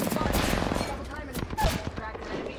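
Dense Apex Legends gunfire in a ranked match, rapid overlapping shots crackling loudly and continuously with sharp bursts near the middle, mixed with game noise and faint voices.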